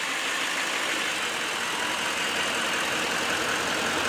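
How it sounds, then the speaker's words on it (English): A 2016 Chevrolet Silverado High Country 2500HD diesel idles quietly with a steady, even engine hum and no voices over it. "Very quiet running diesel."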